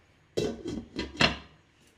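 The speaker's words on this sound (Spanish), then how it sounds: "Le voy a poner una tapa." A lid set onto a pot of chickpeas soaking in water in a home kitchen: a few short clattering knocks, close and fairly loud, with no talking.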